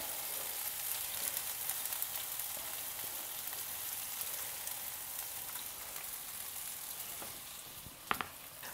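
Green onion and chili fry in ghee with a steady, close sizzle and crackle, bright and continuous, and a few sharper pops and utensil knocks near the end.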